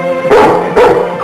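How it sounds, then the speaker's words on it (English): A dog lets out two loud, close barks in quick succession indoors, each bark sharp and then trailing off, with no voices over them. "Call off your dog and I'll tell you."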